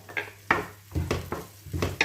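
Tomato goes into a pan of sautéed onion, giving a few soft sizzling bursts, scrapes and clinks of a utensil against the pan, close and intermittent.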